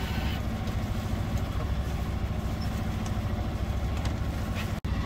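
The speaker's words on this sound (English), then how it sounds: "we decided to turn on the engine and motor the rest of the way" An Albin Vega sailboat motoring along the south coast of Sweden, its small engine a steady, dense low chugging drone with water and wind noise, continuous throughout apart from a brief dropout near the end.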